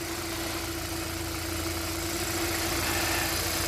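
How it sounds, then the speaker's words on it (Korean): A Kia K7 2.4 GDI Theta II engine idles steadily with a constant low hum and slight vibration, unbroken for the whole stretch. "시동을 걸은 상태입니다."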